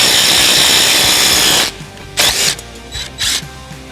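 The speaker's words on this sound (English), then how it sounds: "Then you will take your 9/16 wrench and your 10mm socket and tighten." A power tool whirs steadily, then gives several short bursts as a bolt is tightened into a rivet nut with a 10mm socket while Thumper Fab rock sliders are fitted to a Can-Am Maverick X3, close and loud.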